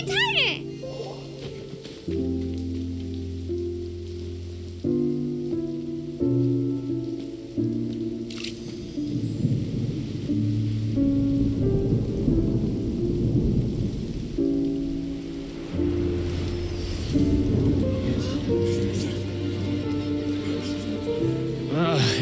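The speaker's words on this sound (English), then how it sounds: "Oh, huh? It's raining!" Rain and rolling thunder in Genshin Impact play beneath game music, with a low rumble swelling midway and a steady patter running throughout; character voices speak over the storm.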